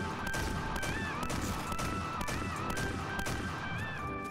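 Repeated shotgun blasts in the shooter game Point Blank, fired at a steady rhythm with bright electronic tones over a dense, loud, continuous noise bed; no talk.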